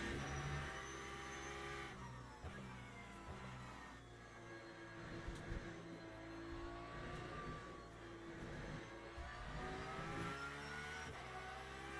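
A Porsche race car in the racing game Le Mans Ultimate revs hard and continuously, its engine note rising and dropping through repeated gear shifts and lifts, loud and close throughout.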